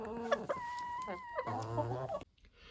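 Several chickens cluck and squawk close by in quick, overlapping bursts, then the sound cuts off abruptly near the end.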